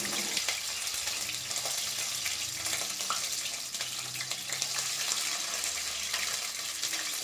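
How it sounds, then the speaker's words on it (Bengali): Cauliflower frying in hot oil in a wok, a loud continuous sizzle close by with bubbling spatter, alone without talk throughout. "তো পরিমাণ মতন তেলটা আমি দিয়ে ফুলকপিটাকে ভেজে নেব।"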